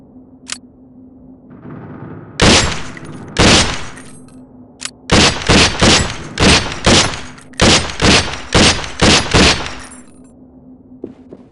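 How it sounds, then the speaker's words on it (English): An M4 rifle and a submachine gun fire on a range in the SWAT 4 video game, with loud close single shots, then several rapid bursts of sharp reports with short pauses between them. "The M4 fires in semi and full auto modes, while the submachine gun has semi-auto and a 3-round burst."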